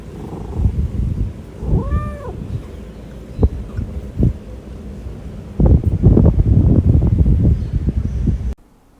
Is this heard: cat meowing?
yes